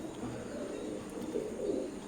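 Teddy pigeons of an imported bloodline coo softly and steadily, a low murmuring close by with no talk over it.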